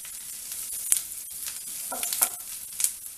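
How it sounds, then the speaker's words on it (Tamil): Garlic crisping in a hot pan while making a Tamil garlic chutney powder, a steady soft sizzle broken by a few sharper crackles and scraping stirs, close and fairly quiet with no talking. "நல்லா பூண்டை மொறுமொறுன்னு வறுத்துக்கிட்டு அப்புறமா நம்ம மிளகாயை போட்டுக்குவோம்."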